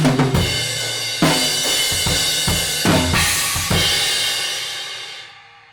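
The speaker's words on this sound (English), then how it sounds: "there's some snare triplets with crashes in between" Drum kit fill with snare triplets broken up by washy crash cymbals and ending on a flammed kick pickup; loud, full and close, with the last crash ringing out and fading at the end.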